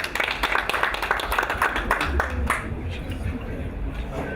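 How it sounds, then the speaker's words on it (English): An audience at a scientific conference claps for a presenter, a dense patter of many hands that stays steady and moderately loud, with a voice briefly audible under it. "Let's clap also for Dr."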